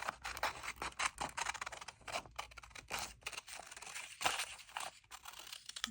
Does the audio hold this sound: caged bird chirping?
no